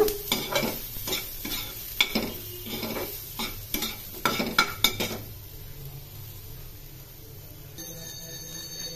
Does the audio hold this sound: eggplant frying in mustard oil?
yes